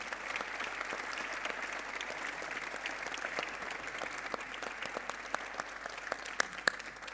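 Quiet applause for guests at the end of a debate on European economics and taxation, a soft, distant, even patter of clapping hands with a few sharper claps near the end.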